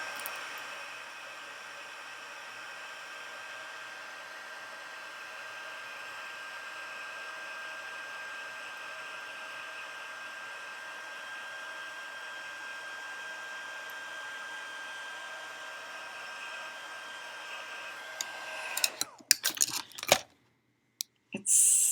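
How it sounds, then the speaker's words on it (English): A heat tool embosses powder on a handmade snowflake shaker card, giving a steady, loud electric whir with a fan hiss and a constant whine for nearly twenty seconds before cutting off amid brief handling clatter. "I'm going to grab my heat tool here and emboss this really fast"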